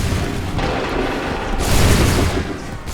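Musket volley fire in the Assassin's Creed 3 video game, a dense rolling crackle of many shots blending into a continuous loud roar that swells midway, with no distinct single reports.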